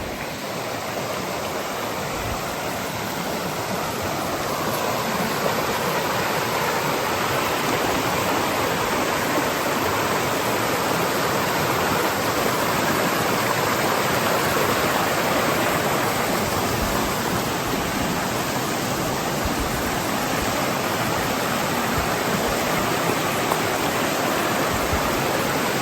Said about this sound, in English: The river is just beautiful.